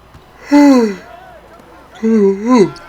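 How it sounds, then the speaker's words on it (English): A person gives two drawn-out yawns, each a loud voiced sigh that slides downward in pitch, close to the ear with a short pause between them. "I'm yawning out here"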